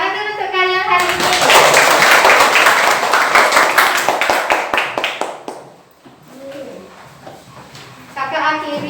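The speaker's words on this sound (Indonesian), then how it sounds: "Tepuk tangan dulu untuk kalian hari ini." Schoolchildren in a fourth-grade classroom clapping their hands together, loud and close, a rapid burst of claps after children's voices, then a brief lull before voices resume.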